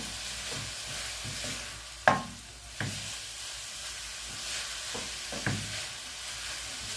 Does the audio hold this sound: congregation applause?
no